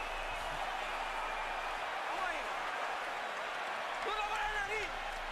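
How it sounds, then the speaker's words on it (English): Steady roar of a large crowd at the Manny Pacquiao vs Miguel Cotto boxing fight, loud and continuous throughout, with scattered voices and cheers rising out of it near the end. "Crowd is on fire"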